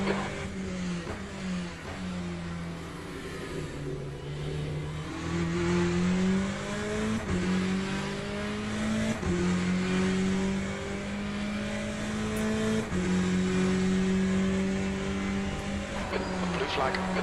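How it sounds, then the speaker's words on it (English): Racing car engine from Le Mans Ultimate at Imola, an LMP2 or GTE class car, drones steadily with rising and shifting pitch as a faster car closes in. Loud and continuous, with gear changes audible and some talk over it. "There's a faster car approaching."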